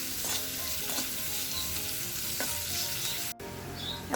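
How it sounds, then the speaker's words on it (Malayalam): Onions with salt sauté in a pan, a steady close broadband sizzle with occasional stirring scrapes, briefly dropping out near the end before resuming. "നമുക്ക് നന്നായിട്ട് വഴറ്റിയെടുക്കാം"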